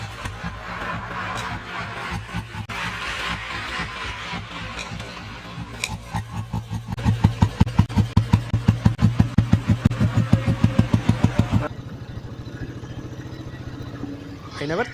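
A 1986 Royal Enfield CI Bullet engine thumps while riding, the slow, heavy beats building loud and distinct in the middle, then cutting abruptly to quieter background rumble, with a voice speaking briefly.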